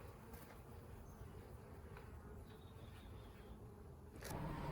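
Honeybees buzz faintly in the background during a first hive inspection, a low, continuous hum with soft rustling. A louder shuffle comes right at the end.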